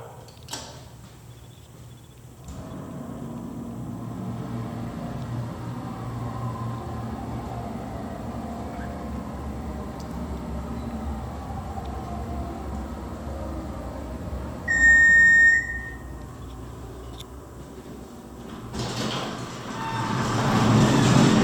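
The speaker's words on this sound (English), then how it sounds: "Listen to the motor one more time and watch the button go out" Hydraulic elevator motor at an IKEA store running as a steady low hum throughout, with a brief beep near the middle and rising noise toward the end.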